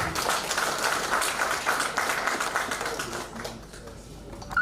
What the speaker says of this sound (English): Will we give him a round of applause?